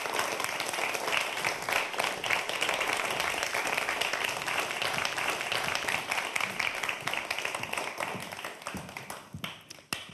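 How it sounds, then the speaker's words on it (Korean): A television lecture audience gives a professor a warm welcome with steady, dense applause. The many hands clap evenly throughout before the sound thins and fades at the very end. "여러분 큰 박수로 맞아주시기 바랍니다."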